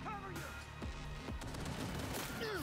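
Explosion and heavy gunfire in Cyberpunk 2077, loud booms and rapid shots piling up in a dense, chaotic burst, with a voice talking over the action.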